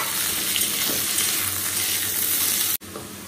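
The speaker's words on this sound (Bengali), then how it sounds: "এটাকে ভাজা চাপিয়ে দেবো।" Black cumin seeds frying in a little oil in a pan, giving a steady close hiss and sizzle with faint stirring that cuts off abruptly near the end, then resumes quietly.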